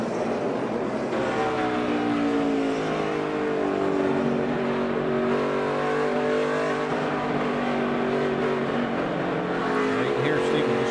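Onboard a race car with the engine held on throttle, a loud steady drone with rising and falling harmonics through the whole stretch, and talk running over it.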